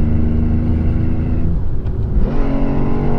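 A Ford Puma ST engine heard from inside the car drops through the gears approaching a chicane, a loud steady rumble that dips midway as revs fall, then surges back with a rising blip.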